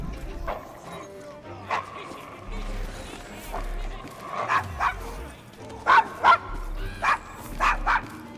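Dog barking in Assassin's Creed Syndicate, a series of sharp yips and barks that grow louder and more frequent toward the end, mixed with whimpers and background game ambience.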